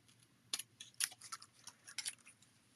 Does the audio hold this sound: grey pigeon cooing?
no